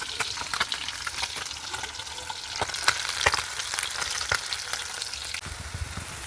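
A fish jhal curry with tomato and onion sizzles steadily in a hot pan, a dense continuous frying hiss broken by occasional stirring knocks and clicks, close and fairly loud, with no talking.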